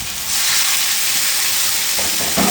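Water added to a hot pan with tomatoes erupts into a loud, steady sizzle that holds, a sharp frying hiss close up, with a brief bubbling surge near the end.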